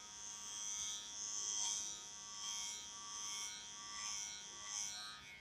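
An electric beard trimmer buzzes faintly in a beard outdoors at an RV campsite in humid weather, its hum rising and falling in gentle swells as it moves across the hair.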